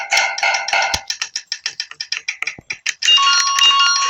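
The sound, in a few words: ding ding police sound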